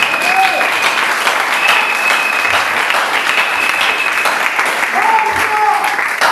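A church congregation applauds and cheers for the Lord in sustained, loud, dense clapping mixed with crowd shouts and cheers, steady from start to finish, with voices calling out over it.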